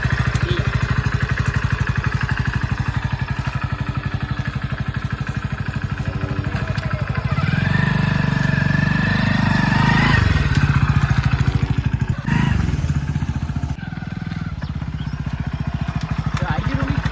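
A motorcycle rides out to a farm field, its engine droning steadily and close for the whole stretch, with a rider's voice speaking now and then over the motor.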